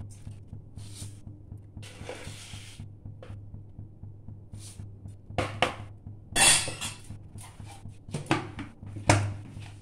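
Milk with sugar is stirred in a pan for caramel custard pudding, with intermittent close scraping and clinking bursts of a spoon against the metal over a low steady hum.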